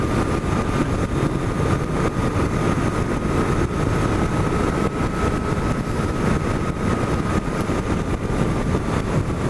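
A BMW R1100T motorcycle cruising in fifth gear on light throttle, a steady loud engine drone with a constant low rumble and a faint whine, mixed with wind noise and no talking.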